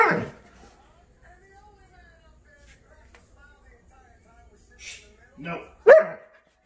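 A Doberman Pinscher gives a short run of barks and yips near the end, close and fairly loud, after a mostly quiet stretch that opens with a brief vocal sound.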